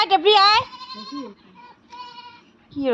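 A young goat kid bleats loudly and close by, one long wavering cry followed by two shorter, thinner bleats with brief pauses between them.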